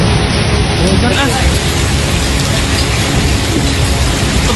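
A hailstorm in Jakarta with strong wind: a loud, dense roar of hail and heavy rain hitting surfaces, continuous throughout, with excited voices over it.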